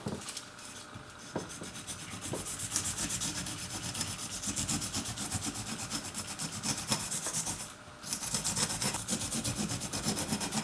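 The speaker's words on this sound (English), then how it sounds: "Place the pineapple on its bottom and thinly slice the skin without taking too much of the pineapple itself" A knife slices thinly down the skin of a whole pineapple standing on its base, giving continuous close rasping, scraping strokes with a few brief pauses over a steady rough texture.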